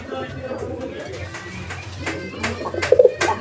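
Rare fancy pigeons in Bangladesh coo in repeated low calls that grow louder toward the end, with faint chatter from people in the background.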